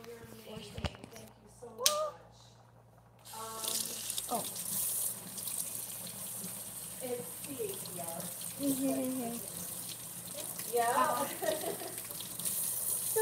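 Tap water running into a sink during washing, a steady hiss that starts after a few seconds and carries on underneath someone talking nearby.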